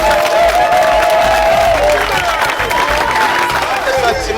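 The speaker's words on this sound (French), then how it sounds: "Je vous prie de bien vouloir applaudir pour le chef de l'État, pour la première ministre qui m'a nommé à cette fonction" A crowd at a ceremony honouring the head of state and the prime minister gives loud, sustained applause and cheering, with voices mixed into the clapping throughout.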